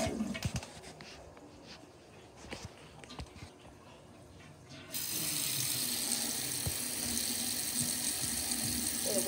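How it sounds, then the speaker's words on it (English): Someone fiddles with objects at a sink, then a tap turns on at about the halfway point and water runs steadily and fairly loud for handwashing. "Gonna wash my hands."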